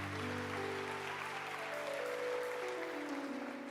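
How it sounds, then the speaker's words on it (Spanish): A church congregation applauds the Lord during a Spanish-language sermon, a steady wash of clapping with a held organ or keyboard chord underneath throughout. "Denle un fuerte aplauso al Señor"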